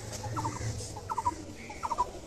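A female purebred pigeon calls in three short, evenly spaced bursts of cooing over a faint low background hum, close and fairly soft.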